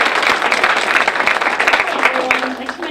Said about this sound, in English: So I think she deserves another round of applause for that.